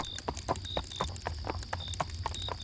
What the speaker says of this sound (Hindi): मैं कहवा पीते पीते घोड़े के कदमों की चाप सुन सकता था।